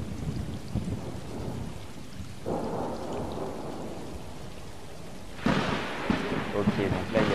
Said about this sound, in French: donc là il y a l'orage